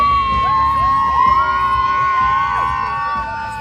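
Crowd of children at an outdoor bike show screaming, whooping and yelling loudly all at once, a dense continuous roar of high-pitched shouts close by.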